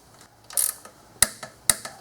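A torque wrench tightens plastic intake manifold bolts to 9 foot-pounds in an X pattern on a 2009–2019 Dodge Ram 5.7L Hemi, giving a few close ratcheting clicks and two sharp snaps, without talk.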